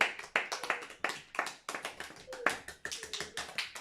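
A few people at a church service clapping for the Lord, sharp separate claps in an uneven rhythm, fairly close and modest in volume.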